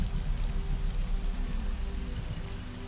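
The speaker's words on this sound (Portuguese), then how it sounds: "É a chuva que tá tocando." Steady rain falls continuously as a dense, even wash of drops, moderately loud and close, with no voices.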